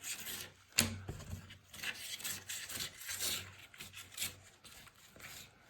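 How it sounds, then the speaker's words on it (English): Knife skinning a northern pike fillet, close and quiet, with irregular scraping and rubbing strokes and one sharp tap near the start. "take the skin off the fillet."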